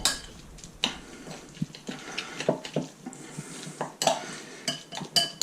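Crab meat is stirred into sriracha mayo in a tub, giving irregular close scrapes, taps and clinks of a utensil against the container, with no voices.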